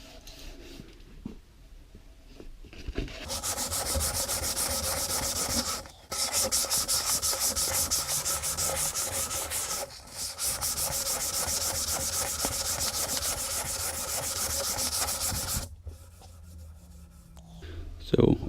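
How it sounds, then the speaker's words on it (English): Sandpaper rubs steadily along a wooden guitar neck being hand-shaped, a loud continuous rasping scrub in long strokes with brief pauses between passes, close up and alone. "That are the places where my sanding paper touches the wood."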